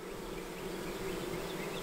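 Honeybees buzz steadily inside an opened hive in March, a dense, continuous hum close by with no talking.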